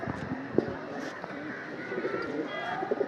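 Pigeons in a pigeon loft give soft, low coos and short calls throughout, with a steady background hum and occasional faint bird sounds, moderately close.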